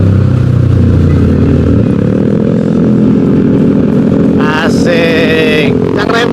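A loud racing motorcycle engine droning steadily up close on a touring ride in Sumatera, with a brief higher rev near the end.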